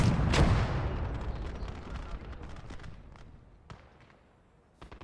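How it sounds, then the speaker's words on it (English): Light mortar shelling in the Gates of Hell: Ostfront war game, a loud booming blast near the start that rolls off into a long fading rumble, followed by a few fainter distant thumps and a sharp burst at the end. "we'll start shelling the Dishka area"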